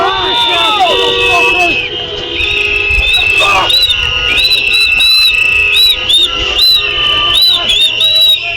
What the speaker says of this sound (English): the whistle's driving me fucking crazy